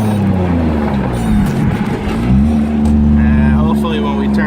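Turbocharged car accelerating hard from third gear on a 10 psi boost pull, going uphill: a loud, steady engine drone rising in pitch throughout, with a voice speaking over it.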